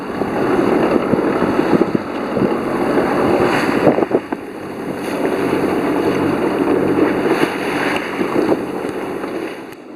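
A sailboat heads out of an estuary on the way from Salcombe to Fowey, with steady wind rush and water washing against the hull, broad and continuous, and no talk.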